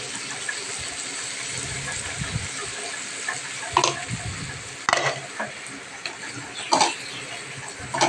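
Ginger, garlic, onion, tomato and chili paste frying in a pan, a continuous hiss and sizzle with intermittent clinks and scrapes of stirring, close-up and steady.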